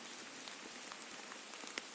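Steady rain patters on a small wet plant outdoors, a dense hiss with scattered sharper drops, continuous and moderately faint throughout.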